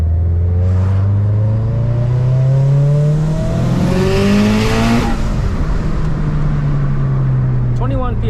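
Turbocharged 2019 Subaru WRX STI running E85 with a big 6466 turbo, its engine idling steadily close by as it warms up, with rising revs midway and voices talking over the engine noise.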